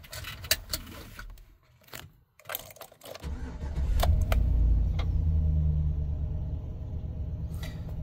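A 2017 Chevy Express 2500 van with a 6.0 V8 is shown after some key jingling and clicks, then cranks and fires into a loud, steady, close idle that holds for several seconds.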